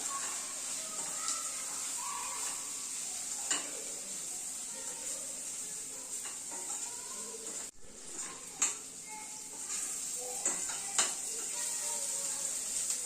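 Onion with coriander powder sizzles steadily in a pan, a constant close frying hiss broken by occasional clinks and scrapes of stirring, no voices.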